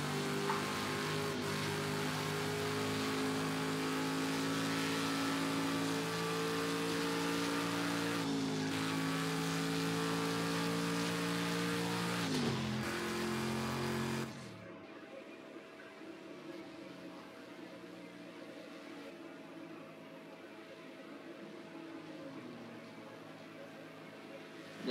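Sauber C9 LM race car in Project CARS 2, its engine holding a steady droning tone with shifting pitch as it corners, then dropping abruptly to a low idle hum for the second half.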